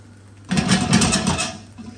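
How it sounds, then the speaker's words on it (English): Oat wrap batter with tuna starting to cook in a non-stick pan, a soft broadband sizzle that rises suddenly and holds steady for over a second before easing, close and moderately loud with no talking. "coat the base of your pan with your little wrap. Just allow that to cook away and kind of dry around on the top."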